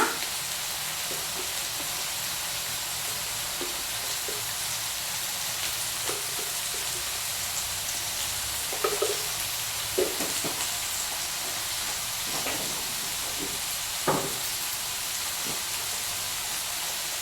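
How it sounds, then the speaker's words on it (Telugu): Steady broadband sizzle of vegetables frying in a pan with turmeric and salt, continuous and fairly close, with a few soft clicks and stirring knocks along the way. "ఇక ఇవి ఫ్రై అవుతూ ఉంటాయి"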